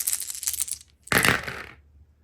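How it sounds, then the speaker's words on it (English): Six dice rolled across a tabletop during a Warhammer Age of Sigmar game: two rattling, clattering bursts, the second sharper and louder, fading out as the dice settle. "I'm going to roll 6 dice instead of 2."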